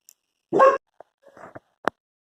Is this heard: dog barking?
yes